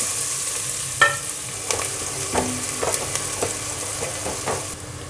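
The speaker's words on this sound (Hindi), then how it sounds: "ज़ीरा तलने के बाद हम डालेंगे यहाँ पे प्याज" Chopped onion fries with cumin seeds in hot oil, a steady close sizzle broken by a series of spatula scrapes and stirs, one sharp tap near the start.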